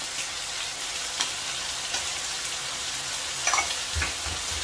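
Chicken jalfrezi masala paste with salt, coriander, red chilli and black pepper powders fries in a pan with a soft, steady sizzle, occasional spoon scrapes and stirs breaking through, quiet and without talk.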